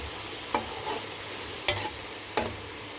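Namak paray being stirred with a spoon in hot frying oil, three distinct scraping stirs at uneven intervals over a steady low sizzle, close up with no voices.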